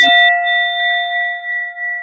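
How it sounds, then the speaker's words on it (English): A single bell struck once, ringing out with a bright metallic clang and a long, steady, sustained tone that slowly fades over about two seconds, heard alone and fairly loud. "And she just did the bell"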